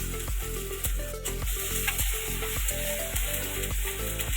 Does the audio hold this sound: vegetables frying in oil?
yes